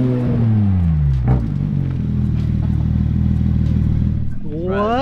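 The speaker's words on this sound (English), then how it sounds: "as you can hear, the GT3 RS is approaching" Porsche GT3 RS sports car engine approaching, a loud deep roar that shifts in pitch as it nears, climbing sharply at the end, with voices talking over it.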